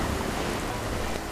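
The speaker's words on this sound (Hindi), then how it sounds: "हल्की बारिश हो रही थी।" Light rain falls in a horror story scene, a dense even hiss of drops with a low rumble beneath, steady and unbroken.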